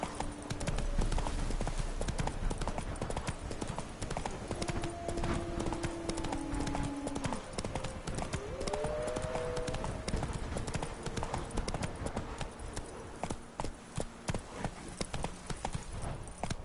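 Roach the horse gallops in a video game, steady clip-clop hoofbeats running continuously under game music and ambient sound, with a brief whinny-like tone in the middle.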